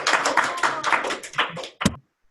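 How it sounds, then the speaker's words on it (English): Students clapping over open microphones, a dense burst of hands that thins out and ends with one last sharp clap before silence. "Clap more, clap more, clap more."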